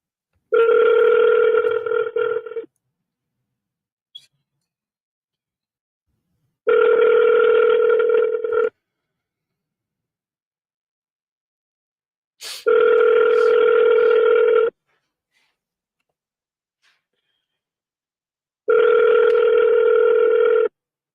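Outgoing phone call ringback tone while calling someone back, four long even rings roughly every six seconds separated by silence, clear and close with no talking.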